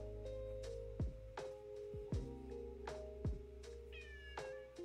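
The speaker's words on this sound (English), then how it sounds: "Life is really hard for a cat like you." A cat meows several times in short, clear calls spaced about a second apart, over a steady droning hum, with no one talking.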